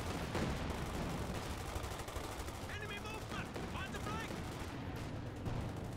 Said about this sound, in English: Long range barrage.